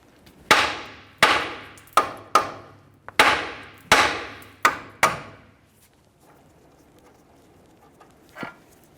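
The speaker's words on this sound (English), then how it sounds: "Now we'll use a hammer, cause some vibration, and that should break this free." A hammer strikes a steering knuckle on a 2012-2018 Nissan Altima to break the front CV axle free, giving eight sharp metallic blows in an uneven series, each ringing briefly, then near silence with a faint clink.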